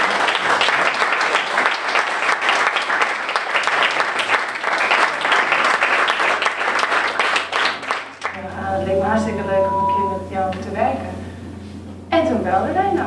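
A crowd applauds an actress from the cast of the film Nova Zembla as she is introduced. The steady clapping runs for about eight seconds, then stops abruptly and speech follows.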